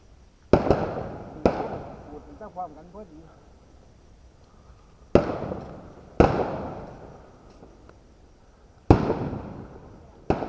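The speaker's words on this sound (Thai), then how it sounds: "คือประทัดครับผม ประทัดร้อยนัด" A string of a hundred firecrackers set off at a Thai end-of-Buddhist-Lent lantern festival: several sharp, loud bangs go off at intervals, each trailing a rumbling echo, with voices of the crowd talking in between.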